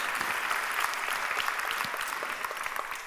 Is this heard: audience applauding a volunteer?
yes